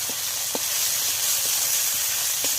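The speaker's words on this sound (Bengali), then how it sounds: "তেল দিয়ে দিচ্ছি আদা রসুন দিয়ে দিলাম" Ginger and garlic hit hot oil in a pan while cooking a Bengali fish dish, giving a steady, close sizzle and hiss throughout with a few faint pops.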